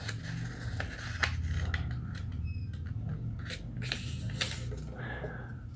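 Paper is creased and folded for an origami rose, with soft close crinkles, rubs and sharp flicks across several seconds, quiet and without speech.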